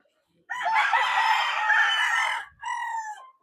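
A backyard gamecock rooster crows loudly and close by, one long drawn-out cock-a-doodle-doo followed by a shorter trailing call, with no talking.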